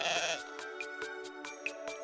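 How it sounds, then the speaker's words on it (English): A goat in a video game bleats in a quick series of short, evenly spaced calls, moderately loud and alone, with a louder opening cry and a few brighter chirps mixed in. "Where's my goat at?"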